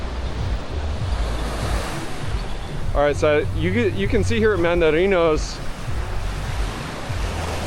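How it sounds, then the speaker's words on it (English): Ocean surf crashes steadily along the beach at Playa del Carmen with wind noise against the microphone, and someone talks over the waves partway through. "they're just getting smacked with waves all the way through there."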